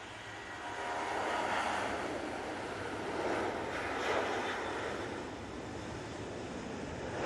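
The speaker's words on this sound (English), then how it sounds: "As we have this Ryanair going off to Prague." A Ryanair airliner takes off from Manchester Airport bound for Prague, a broad distant jet roar that swells and holds steady without talk.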